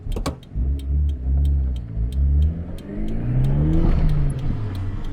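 A Daihatsu Mira TR-XX Avanzato Turbo with a swapped engine revs hard through the gears from inside the cabin, the engine note climbing and dropping between shifts, loud and close, alone without talk.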